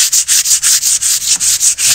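Rhythmic back-and-forth rasp of sandpaper scrubbing a surface being prepared for varnish, loud and close, about five strokes per second with no talking.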